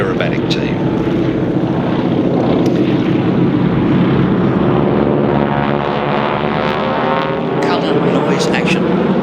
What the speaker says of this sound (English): Southern Knights Harvard aerobatic team.